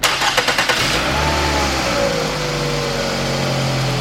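A car engine fitted with new headers revs in a few sharp blips, then settles into a deep, steady idle rumble close by, with no talking.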